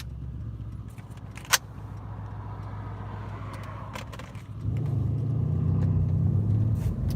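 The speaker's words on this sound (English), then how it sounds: "you want to hear this car?" Car engine idling low and steady, then swelling into a louder, fuller rumble partway through, with a sharp jangle of keys and faint clicks near the start, heard up close from inside the vehicle.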